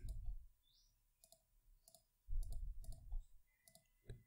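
A computer mouse clicks several times while selecting files in a Windows 7 disk cleanup, sharp separate clicks with short pauses, close and fairly quiet, with a few soft low thumps.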